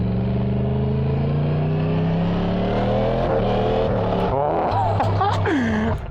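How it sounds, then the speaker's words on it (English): A 2023 Yamaha MT-10 motorcycle with a Junction 33 Woolich remap roars loudly while riding, its exhaust note rising and falling through gear changes, with voices talking over it near the end. "Up and down gears like nothing as well, and the exhaust sounds so good."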